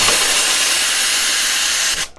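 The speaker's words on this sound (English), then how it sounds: "Quite a bit of steam pressure for heat exchanger." Steam wand on a Bezzera Magica heat-exchanger espresso machine blasting a loud, steady high-pressure hiss for about two seconds, then cutting off abruptly.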